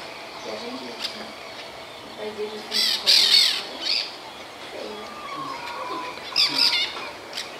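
Harsh maritaca parakeet squawks come in short bursts from a few birds, some distance off, over a low outdoor background in a small town in Santa Elvira, Mato Grosso, Brazil.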